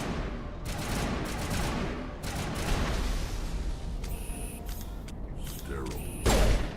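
Rapid gunfire bursts from a weapon in the video game Mass Effect 1 Legendary Edition, loud and continuous over busy game noise with mechanical clicks and thumps, ending in a sharper heavy impact.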